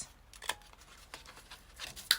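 Scissors trim small pieces of paper, a few quiet separate snips with soft rustling between them in a still room.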